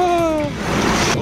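Atlantic Ocean waves washing in at a Miami beach, a broad close surf hiss that swells after a brief tonal tone fades at the start.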